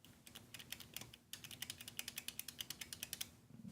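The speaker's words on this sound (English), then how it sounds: "the power button is actually, supposedly, a blue clicky, like, keycap switch" Sharp, crisp clicks from the blue clicky keycap-style switch used as the power button on a HYTE Y70 Touch PC case, pressed repeatedly in a quick, uneven run of close, distinct taps with a short pause near the middle.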